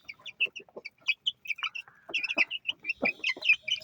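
Chicks and roosters cluck and peep in quick, irregular bursts close by, overlapping calls growing busier in the second half, with no talking.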